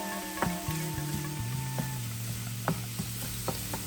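Minced garlic and shallots sizzle and fry in a pan for a spicy lobster ravioli dinner, giving a steady close crackle, with a few sharp clicks and scrapes of stirring and no talking.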